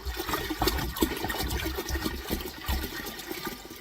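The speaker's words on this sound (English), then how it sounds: "and I'm going to add water." Water pours into a very large cooking pot on a kitchen stove, a continuous splashing and gurgling rush with a few bumps of the pot, fairly close, with no talking.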